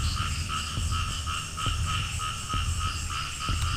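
Frogs croaking at night outdoors, a dense chorus of rhythmic pulsing calls that repeat steadily and fill the air, loud and close, with no talking.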